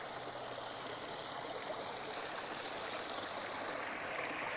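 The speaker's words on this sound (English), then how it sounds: "Water movement, the sound of water, very, very important." Steady flowing water in a natural garden pond, a continuous close stream-like trickle and gurgle with no pauses, moderately loud and alone.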